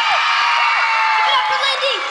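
A crowd at a 2012 concert cheers and screams loudly and continuously, with high-pitched shrieks and whoops rising over the sustained roar.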